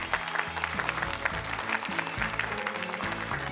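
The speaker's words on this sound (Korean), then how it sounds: "여러분 박수 한번 부탁드리겠습니다." An audience at a regional issues talk event in Seosan claps for a student representative, a continuous patter of clapping over background music.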